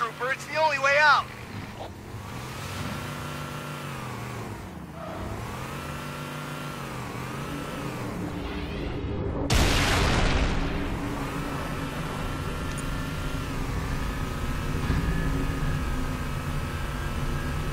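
A vehicle in Halo 3 ODST climbs a hill, its engine rising and falling in pitch as it revs and accelerates. Voices talk over the engine in places.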